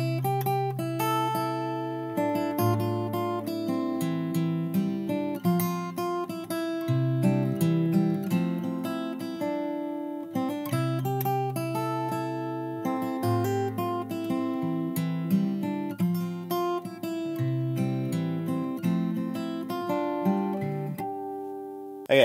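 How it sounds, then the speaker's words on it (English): Fingerstyle acoustic guitar playing the verse of a song, steady picked bass notes and ringing chords flowing continuously, close and full with no talking. "we're going to move into the verse, which is going to sound like this."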